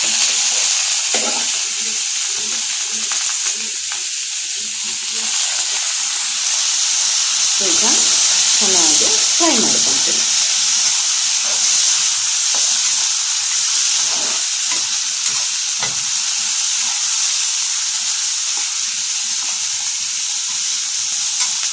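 Liver frying in a pan, being stirred, with a steady loud sizzle and hiss and the scrape of a spoon through the pieces, continuous throughout with no talk.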